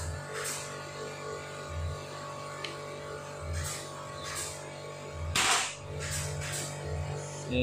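Several sharp shots from a Redbul CNC Salome air rifle crack at irregular intervals over a low background hum, with no talking.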